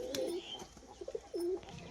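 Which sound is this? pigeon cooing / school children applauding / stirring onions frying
pigeon cooing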